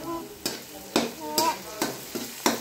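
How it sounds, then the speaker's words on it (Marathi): Onion being sautéed in a pan for pav bhaji: a low sizzle broken by sharp, regular stirring scrapes roughly every half second, close up and fairly loud. "नंतर मग ठेवला कांदा परतायला"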